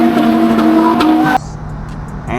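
A Nissan 350Z engine revs high and loud with a strong whine up close, then drops off abruptly to a lower idle-like drone.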